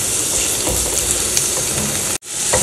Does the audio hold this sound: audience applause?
no